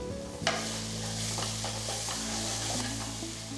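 Cumin, turmeric powder and chopped green chili sizzling in hot oil in a pan, a steady close frying hiss with a spoon stirring and scraping in soft repeated strokes, no talking.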